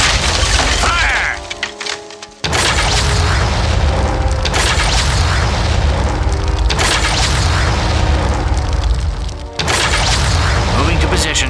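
Cannon volleys and explosions in the strategy game Armies of Exigo, several heavy booms and cracks rolling out one after another, loud and close, with brief unit voice lines between them.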